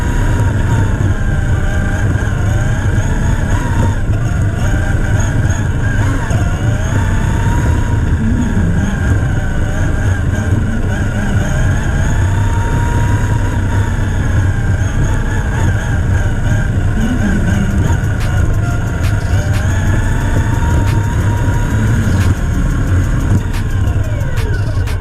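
Toyota Supra engine running steadily and loudly close by, a continuous low rumble with a smooth even drone and no pauses throughout.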